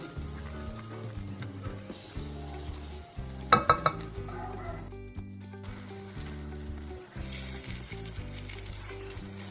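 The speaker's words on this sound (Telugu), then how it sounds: "ఈ నూనె పైకి తేలి వరకు వేయించుకోవాలి." Masala with onion and cashews fries on a low flame for a cashew mushroom curry, a gentle continuous sizzle with a cluster of louder scrapes and clatters of stirring partway through, close by, while faint music plays underneath.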